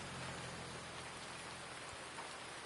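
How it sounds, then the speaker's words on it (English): Steady rain in the Farming Simulator 19 Seasons game on PS4, a constant dense hiss of falling drops with no thunder, heard alone at low level throughout. "Unfortunately, we're doing this on a rainy day"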